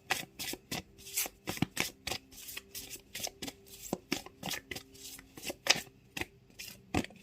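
Tarot cards are shuffled by hand for a reading, producing quick, crisp riffling bursts repeated in a steady rhythm, close up and with no talking.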